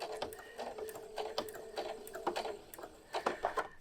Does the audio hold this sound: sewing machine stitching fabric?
yes